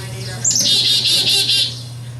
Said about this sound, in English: That's your chickadee.